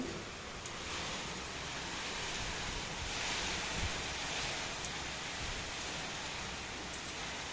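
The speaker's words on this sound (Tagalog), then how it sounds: "Umulan na ulit." Steady rain falls on a garden in a soft continuous hiss, with gusts of wind rushing through and occasional faint thuds, heard at a moderate distance.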